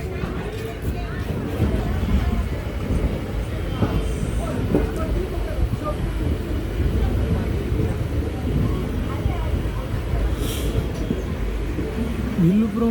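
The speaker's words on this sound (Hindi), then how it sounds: "धीमी रफ्तार से प्लेटफॉर्म से जाते हुए ये पुडुचेरी एक्सप्रेस" A Puducherry Express train pulling slowly out of a station platform near Villupuram Junction and picking up speed, giving a steady rolling rumble that runs throughout, with voices faintly mixed in.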